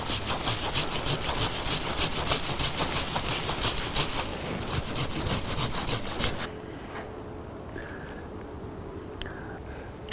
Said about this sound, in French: Là je vais me servir de la scie pour ouvrir le centre de la plante.